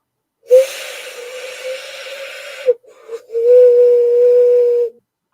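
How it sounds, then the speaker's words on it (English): A Chilean ceramic whistle blown in two long steady tones, the first about two seconds and the second slightly shorter after a brief breathy gap, loud and close with an airy hiss over the pitch. "So I know it's a Chilean whistle."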